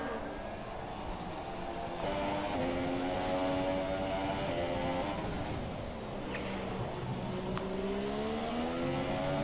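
Formula racing car engines in a video game race, Ferrari and Force India cars battling side by side, a loud continuous high-revving whine with pitch rising and shifting as the cars accelerate.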